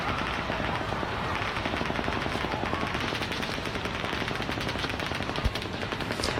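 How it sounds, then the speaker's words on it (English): Rapid bursts of automatic gunfire rattle on continuously, dense and repetitive, with no voices over the steady crackling barrage, during the 2017 Las Vegas mass shooting. "They heard that repetitive gunfire."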